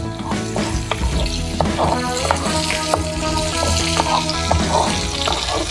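Chicken legs fry in a masala with fennel powder, giving a continuous close sizzle with intermittent stirring scrapes and clinks.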